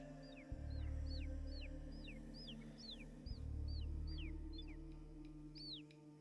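Repeated chirpy clucks from a chicken in the video game Yaga: Roots of Evil, about a dozen short calls in a steady rhythm over a low droning game ambience with a pulsing bass swell.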